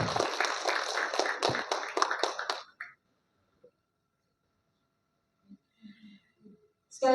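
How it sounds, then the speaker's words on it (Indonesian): Applause from a ceremony audience at a memorial event and book and song launch, a dense burst of clapping that fills the first few seconds and then stops abruptly, followed by near silence with a few faint scattered sounds. "Sekali lagi tepuk tangan yang meriah"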